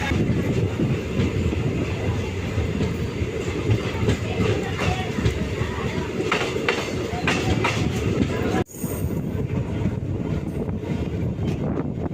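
A passenger express train rumbles steadily along the track with rhythmic clacking wheels and a constant low roar, loud and close, broken briefly by a sudden sharp jolt.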